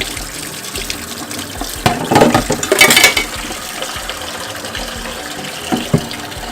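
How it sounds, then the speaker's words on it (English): A fryer's mesh filter being rinsed in a kitchen sink under a running tap, with steady water flow that swells into a louder splashing gush midway before settling back. "Rinse this mesh filter out a little bit more."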